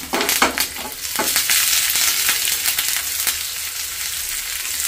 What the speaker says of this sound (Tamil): ஒரு வெங்காயம் கொஞ்சம் வதங்கட்டும்.